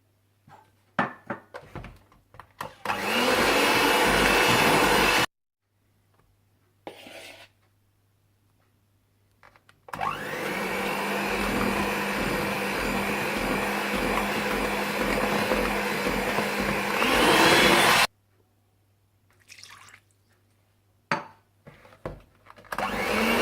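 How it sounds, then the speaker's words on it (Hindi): An electric mixer beats lemon cupcake batter with milk in two steady whirring bursts, a short one followed by a longer run, separated by quiet gaps with faint bowl and handling clatter. "फिर थोड़ा सा दूध डालें और फिर से बीट करें।"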